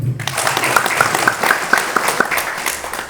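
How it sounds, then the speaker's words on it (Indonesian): A gathering claps for Mas Subur, an athlete being introduced at a martial arts grading event, with a short burst of applause starting after a brief pause and carrying on fairly close and loud. "Beri tepuk tangan sama Mas Subur."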